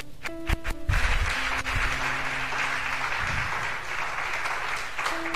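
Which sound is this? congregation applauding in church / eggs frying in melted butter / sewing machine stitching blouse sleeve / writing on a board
congregation applauding in church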